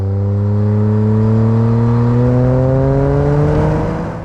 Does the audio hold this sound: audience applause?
no